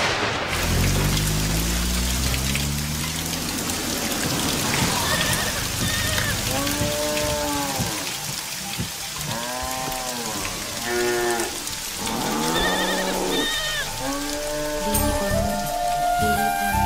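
Steady rain falls throughout a film scene, a continuous broadband patter that stays in the background while voices speak over it for most of the scene.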